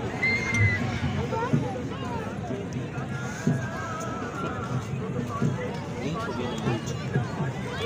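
Horses running at a tent pegging (neza bazi) event, with dull hoofbeats thudding along beneath a constant crowd hubbub and scattered voices, the galloping steady but partly buried in the noise.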